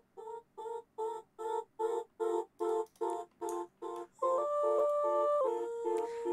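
Vocals chopped by a Gross Beat gate preset with raised attack and release pulse in a steady run of about ten even bursts, then open into a continuous sustained line with stepping pitches.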